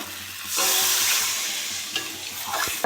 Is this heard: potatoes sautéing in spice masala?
yes